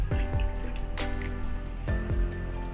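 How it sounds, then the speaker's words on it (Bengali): Water poured from a vessel into a cooking pot, splashing and dripping close up with a few distinct knocks and plops of the container against the pot. "এবার একটি পাত্রে দিয়ে দিচ্ছি জল।"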